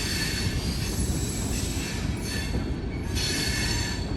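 A freight train rolls past a raised-gate level crossing at Maple Highland, its wheels squealing loudly and steadily against the rails over a continuous rumble, close by, with no talk.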